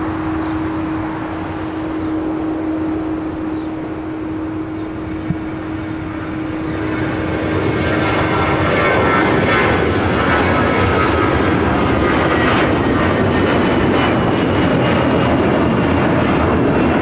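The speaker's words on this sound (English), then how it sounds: "This is a Delta flight coming in from Honolulu, 767-300ER, flight" A Delta Boeing 767-300ER arriving at LAX from Honolulu, a broad jet engine roar that holds steady and then swells louder and rougher as the aircraft comes closer, continuous with no talking.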